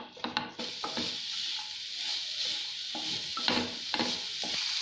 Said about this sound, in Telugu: ఉల్లిపాయ ముక్కలు వేయండి, వేసి ఒకసారి ఫ్రై చేయండి